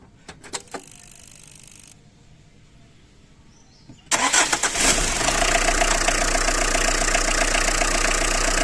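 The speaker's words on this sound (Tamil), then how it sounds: "ஒரு நிமிஷம் ஸ்டார்ட் பண்ணி காட்டலாமா? நியூட்ரல் இருக்குல்ல, ஸ்டார்ட் பண்ணி காட்டுறோம் பாருங்கள் எப்படி இருக்குன்னு." A used Tata Indica V2 car engine cranks briefly and catches, then settles into a loud, steady idle that runs to the end, after a few quiet clicks and a pause.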